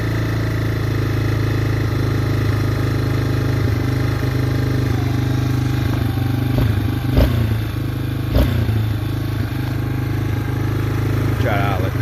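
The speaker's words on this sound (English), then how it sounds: "I idled it up and it's revving to the moon" A rebuilt Yamaha Wolverine ATV engine runs with its idle set too high, giving a loud, steady, close-up drone with a few sharp clanks and clatters over it.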